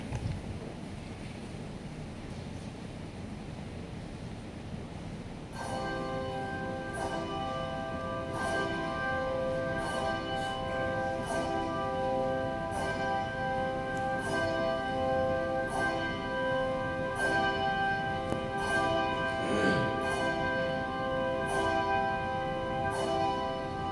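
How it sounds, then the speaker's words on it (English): Church bells peal in a steady series of ringing strikes after a quiet, windy start, carrying on with overlapping rich tones before a Sunday hymn. "we will sing that after the pealing of the bells."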